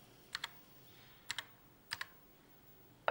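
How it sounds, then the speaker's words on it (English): Keys tapped on a Commodore 64 keyboard in a quiet room, a few sharp close clicks in small pairs spaced about half a second to a second apart. "Typing run."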